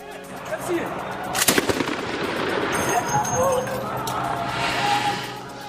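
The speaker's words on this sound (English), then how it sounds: "the regime forces are still bombing rebellious towns and villages" Gunfire and bombing in the suburbs of Aleppo, Syria: a loud cluster of rapid shots cracks out early, followed by scattered bursts and rumbling over continuous background noise, with people talking throughout.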